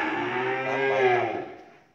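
A French-breed cow on a cattle farm gives a single loud, close moo that swells and then fades away over about two seconds.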